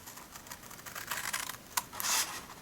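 Scissors cutting through card for a handmade gift box, a few close, light snips and rustles of paper at a quiet level.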